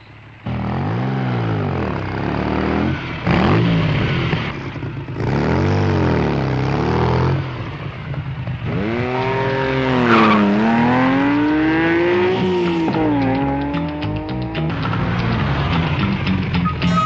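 A car drives past with its engine rising and falling through repeated revs while the tires squeal and skid in long sweeping howls, loud and close, with no voices over it.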